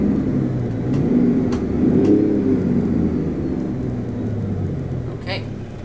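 A 2006 Sisu C600 truck engine in Euro Truck Simulator 2 rumbles and revs a couple of times, swelling and falling back to a low idle, with a brief click near the end.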